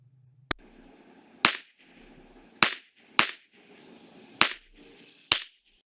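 A PSA Rock pistol fires 40 grain bolt pack ammunition: six sharp, loud shots at irregular intervals of about a second, each ending in a short echoing decay outdoors.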